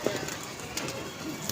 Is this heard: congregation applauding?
no